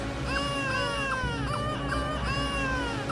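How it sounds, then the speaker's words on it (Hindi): A young child cries in sustained, wavering wails with repeated rising and falling sobs, steady and moderately loud throughout, with no other voices. "नेहा को हर कमरे से बच्चे की रोने की आवाज आने लगी।"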